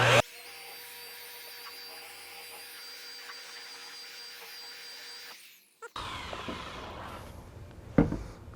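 A car paint polisher buffing worn, thin paint gives a steady whining motor drone with tonal hum for several seconds, then cuts out, followed by rougher scraping and handling noise with a sharp knock near the end.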